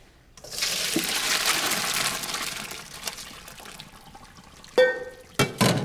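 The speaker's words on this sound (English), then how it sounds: "take a cup and just take out some of the pasta water" Hot pasta cooking water is scooped out of a pot with a cup for an Ina Garten pasta recipe, giving a rushing, splashing stretch of liquid followed by a few sharp clinks.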